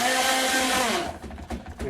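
A stick blender whirs loudly in a batch of homemade leave-in hair conditioner, a steady high motor whine that stops after about a second, leaving light knocks and handling sounds.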